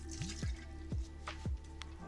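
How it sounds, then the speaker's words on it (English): Mirin splashes into a poke bowl in a few quick, close, wet drips and glugs, three distinct pours heard in a quiet kitchen. "And a big splash of mirin."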